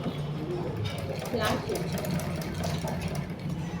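A sewing machine runs steadily at close range, its quick mechanical chatter stitching piping into fabric, with someone talking over it throughout.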